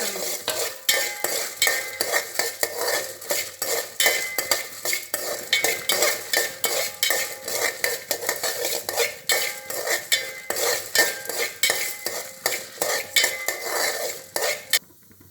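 Seven dried red chillies and coriander seeds dry roasting in a pan for Chidambaram brinjal kosthu, stirred with steady, rapid scraping and light clinks of the spoon against metal, close and continuous.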